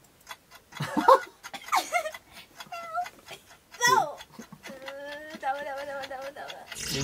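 A person imitates a cat's meow during a kitchen guessing game on a television show, giving several drawn-out, wavering mews in sequence, close and clear, broken by short gaps.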